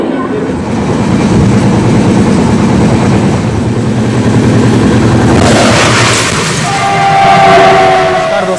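A train at Bikaner station rumbles loud and close with steady rail clatter, and a horn blows near the end.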